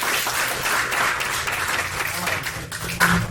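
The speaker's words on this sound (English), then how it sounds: "you take a seat, round of applause" Applause from students at a martial arts academy seminar, a brief burst of group clapping at close range that rises and falls over a few seconds.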